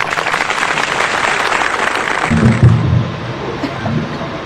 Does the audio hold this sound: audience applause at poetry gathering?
yes